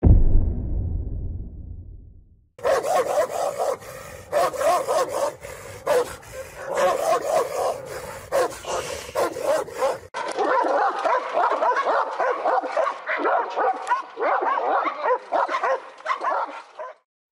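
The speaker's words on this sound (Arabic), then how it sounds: "كلب الراعي الكوكوزي." A Caucasian shepherd dog barks and yips repeatedly in quick bursts, fairly close and loud, with some whimpering tones mixed in.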